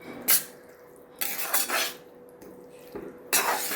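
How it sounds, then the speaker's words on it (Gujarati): Corn kernels being mixed into a masala vegetable curry in a pan make several bright clinks and scrapes of a spoon against metal. Bursts come close and separated by quiet gaps, with no talking. "આપણે મકાઈના દાણા એડ કરી દઈશું અને પછી બરાબર શાકને મિક્સ કરી લઈશું"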